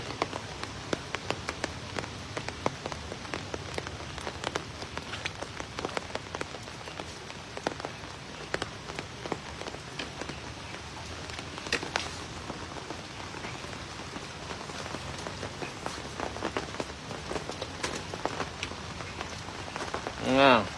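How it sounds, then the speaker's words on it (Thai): Heavy rain pours steadily at night on the grounds of Wat Lokmoli temple, a dense constant patter with splashing drops throughout, close and loud, with faint voices beneath. "ตอนนี้ทำวัดเสร็จก็ตกอีกเมื่อกี้ตก แรงมาก"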